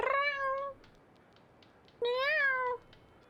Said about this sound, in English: I don't know if you can hear my cat. He's whining at me.